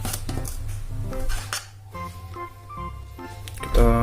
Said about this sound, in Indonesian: Kita aduk dulu sampai